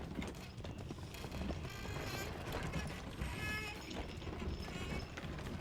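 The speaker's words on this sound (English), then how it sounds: "Push it along. Creaky, creaky siege engine." A creaky siege engine is pushed along in the Paladins video game, giving a continuous busy clatter of wooden creaks and mechanical knocking under a dense, steady game soundscape.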